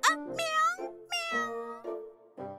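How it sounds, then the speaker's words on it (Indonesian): A cat meows several times in close succession, loud and near, with drawn-out, wavering cries separated by brief pauses. "Kucing? Apa kita punya kucing?"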